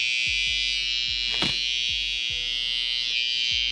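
Brand-new Suprent Pro Black Obsidian hair clippers with a Pro Blade run close by with a steady, bright electric buzz, broken by a single short click partway through, with no talking.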